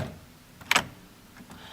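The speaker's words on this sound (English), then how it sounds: "And then a key unlocking the door." A key unlocking a door makes one short, sharp click, close and isolated amid faint background hush.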